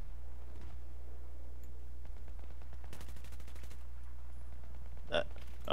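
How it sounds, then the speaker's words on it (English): Gunfire in the video game Battlefield 3: a burst of rapid shots around the middle, then a couple of sharper cracks near the end, all fairly faint over a steady low hum. "I'm being shot at."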